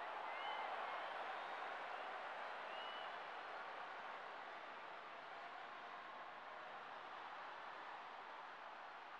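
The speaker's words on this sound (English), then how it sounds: "The crowd is pumped here at Penrith Stadium." Stadium crowd cheering from the Rugby League 2003 video game at Penrith Stadium, a steady, distant roar of applause and crowd noise that slowly eases in level, with no speech.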